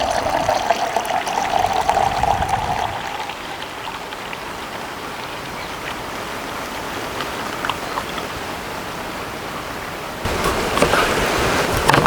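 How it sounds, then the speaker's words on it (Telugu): Cooled nannari syrup, a homemade sarsaparilla-root syrup, pours steadily into a container in a home kitchen, a continuous splashing trickle throughout that grows louder near the start and again at the end, with no talking. "ఇప్పుడు ఇదంతా ఒక కంటైనర్లో పోసుకుందామండి"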